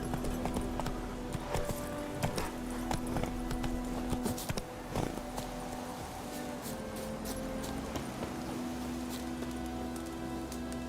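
Hooves of Roach, a horse in a video game, clip-clop at a steady gallop through the whole stretch over a rain-like patter and a low steady drone, with no talk.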